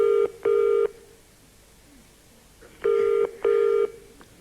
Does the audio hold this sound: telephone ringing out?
yes